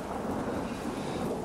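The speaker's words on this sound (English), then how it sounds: "you can see it's downpouring too" A heavy rain downpour during a lightning storm roars as a dense, steady wash of noise, loud and close, with low rumbling beneath and no voices.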